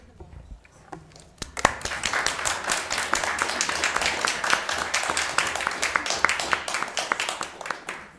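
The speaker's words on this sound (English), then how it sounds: "Might be appropriate for applause right now." Applause at a city council budget workshop in Lewiston: a few scattered claps at first, then the room joins in with sustained, fairly distant clapping that fades slightly at the end.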